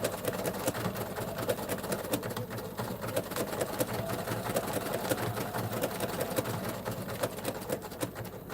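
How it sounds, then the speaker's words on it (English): A sewing machine with its walking foot engaged runs steadily, stitching an appliqué shape onto dark fabric, a continuous mid-level whirring hum with rapid needle rhythm throughout. "at the back of the machine the walking foot is actually engaged and it's working"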